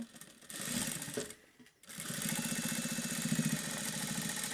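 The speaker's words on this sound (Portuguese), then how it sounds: "Vou passar uma costura aqui e uma costura no outro lado para prender o viés." A sewing machine stitches bias binding onto a fabric wallet in a quiet room, running in a fast steady whirring rattle, stopping briefly for a moment and then starting again.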